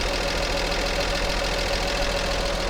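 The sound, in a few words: car engine running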